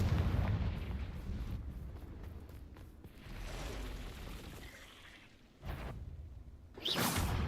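Repeated Confringo fire-spell blasts in the Hogwarts Legacy video game, heavy booming bursts with whooshing tails rolling through a noisy battle, a sharp bright burst near the end.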